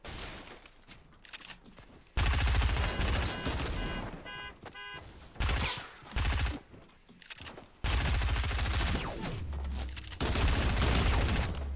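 Fortnite Halloween event match: loud bursts of automatic gunfire and heavy blasts, with grenades mentioned, come in repeated dense volleys separated by short quieter gaps, with no speech.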